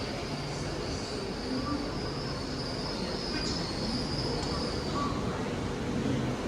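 A ten-coach Class 800 train, unit 800 014, moves through Cardiff Central station with a steady rumble of wheels on rail, faint high squeals and a constant hum of station noise.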